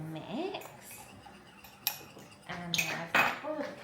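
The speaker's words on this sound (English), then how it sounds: "give it a little stir to just dissolve it all in" A spoon clinks and scrapes against a mug while stirring a drink in a rental apartment kitchen, with light, irregular metallic taps that grow busier toward the end, close up, with faint voice sounds in the background.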